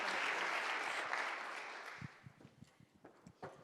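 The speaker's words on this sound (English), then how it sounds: "Please, a big round of applause for Sumar." Audience applause at a community talk on Black wealth in Minnesota, a broad wash of clapping that dies down after two seconds, followed by scattered footsteps and light movement.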